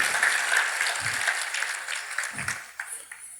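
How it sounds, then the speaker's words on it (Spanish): A church congregation claps together in a brief burst of applause that gradually fades away over a few seconds. "Si va a aplaudir al Señor, apláudela con gozo."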